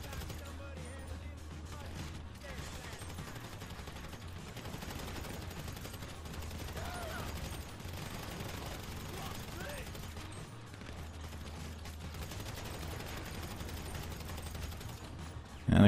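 Gunfire in the PC version of GTA V Online, a crossfire shootout heard as quick rattling bursts and scattered shots at a fairly low level, running steadily throughout with a rougher rumble underneath.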